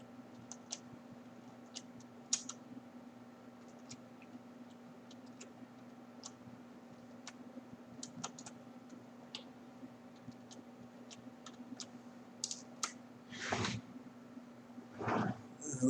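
Light clicks of typing on a computer keyboard while searching research papers, scattered taps close by and faint, ending in a few louder clacks.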